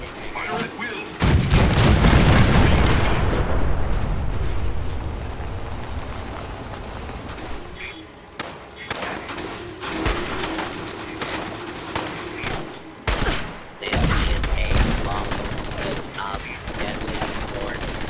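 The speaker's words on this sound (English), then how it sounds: "The cannons are ready. Fire at will." Cannons fire at scavengers during a Fallout 4 battle, loud booming blasts with repeated gunshots over the first few seconds, then scattered further shots and impacts amid ongoing combat noise.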